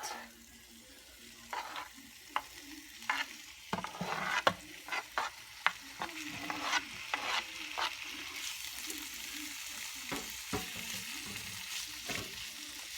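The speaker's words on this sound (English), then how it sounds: "put in the rest of the scallion and about a tablespoon of garlic" Steak pieces with scallion and garlic sizzle steadily in a pan, broken by repeated clacks and scrapes of a utensil stirring and turning the meat, close and fairly loud.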